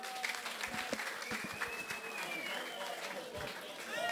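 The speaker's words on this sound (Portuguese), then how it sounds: "Recebam com forte aplauso e bondoso humorista." Audience applause and cheering for a comedian at a live comedy show, a dense steady crowd wash with some whistles and shouts mixed in, loud and sustained throughout.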